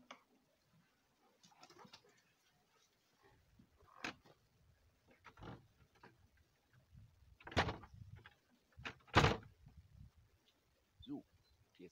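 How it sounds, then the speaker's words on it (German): A door is shut indoors with a few scattered bumps and knocks before one sharp, close thud, then quieter handling sounds. "So, jetzt die Tür zu."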